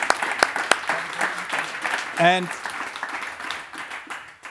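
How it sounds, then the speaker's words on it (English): Applause from an audience, steady clapping filling the room while a voice speaks briefly over it. "Give him a big hand of applause"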